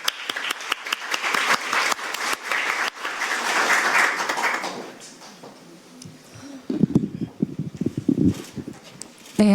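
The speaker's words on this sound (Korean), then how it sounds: "큰 박수 부탁드립니다." An audience at an emergency medical patient safety forum applauds loudly for a few seconds. The clapping thins and fades, giving way to shuffling, footsteps and low handling noises nearby.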